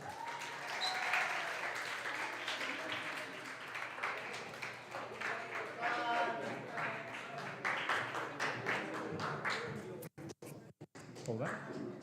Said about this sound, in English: Let's give an applause for Carla Gonzalez.